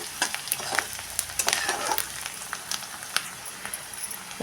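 Onion sautés in oil in a pan, heard up close as a crackling sizzle broken by frequent sharp pops and spatters, no speech.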